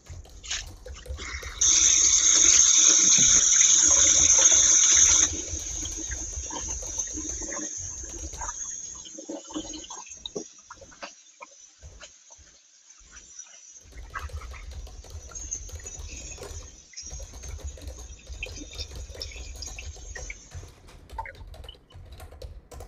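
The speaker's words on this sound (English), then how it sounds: "I'm going to go wash my vegetables in the sink." Water from a kitchen sink tap runs loudly at first as vegetables are rinsed by hand in a container, then gives way to quieter splashing and handling sounds near the basin.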